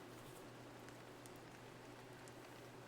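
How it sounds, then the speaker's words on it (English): Rain ambience from the horror game Penumbra: Overture, a steady, faint wash of falling rain pattering on surfaces without a break, with a low hum underneath. "ominous sound of rain"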